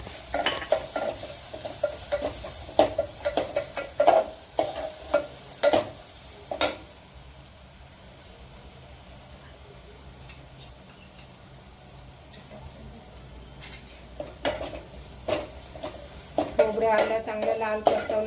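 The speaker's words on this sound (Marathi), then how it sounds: "हे बघा कांदा चांगला लाल झालाय आता आपण आपण ते खोबरं आलं लसूण टाकूया" Reddened onion frying in a pan as coconut, ginger and garlic go in for a chicken rassa: a quiet, steady sizzle under scattered sharp clinks and scrapes of a spoon stirring against the metal pan.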